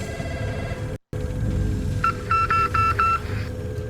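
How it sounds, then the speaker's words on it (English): A phone in Call of Duty Warzone, at the downtown bank, plays a quick Morse code message: a run of short and longer steady beeps over about a second, over a constant in-game background hum. "Interact with the phone and you should hear a quick Morse code message."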